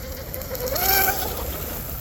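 A small RC boat motor and propeller run on a new prop, giving a steady whirring, gear-like mechanical whine that rises slightly mid-clip and holds at moderate loudness, with no talking.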